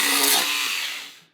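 A handheld sander works the bodywork of a Mercedes AMG GT, giving a loud, close, high-pitched whirring grind that fades and stops after about a second.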